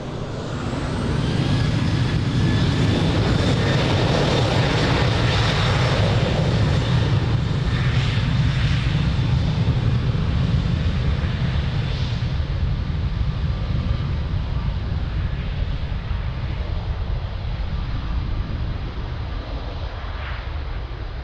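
An airliner roars down the runway on takeoff at Lisbon Airport, a loud, broad sustained engine rumble and whine that holds strong throughout, tapering slightly toward the end, with no voices over it.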